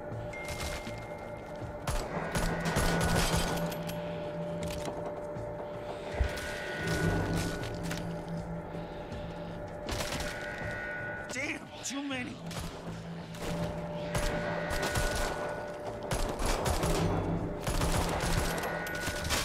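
Rapid SMG bursts in the zombie shooter Arizona Sunshine, played in VR, come in repeated volleys of gunfire, with a player talking in between and over the shots.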